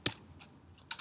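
A few keys are tapped on a computer keyboard while a value is entered in ArchiCAD software, making three sharp, close, quiet clicks spread over about a second against near silence.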